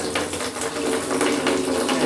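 Steady running water from a tap, a continuous splashing rush with no voices, close by and fairly loud throughout.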